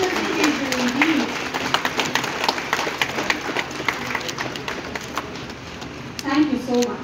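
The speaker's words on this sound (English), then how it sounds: "A big round of applause, ladies and gentlemen." Applause from an audience at a state government ceremony unveiling the Tagore Cultural Complex: dense, steady clapping fills about six seconds, with a voice briefly heard near the start and again near the end.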